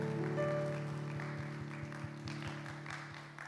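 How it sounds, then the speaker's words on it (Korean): A church congregation claps together in a steady, diffuse wash of applause under sustained keyboard chords, fairly distant and moderately loud, with no talking. "우리 그렇게 하실 하나님께 감사의 박수 올려드립시다"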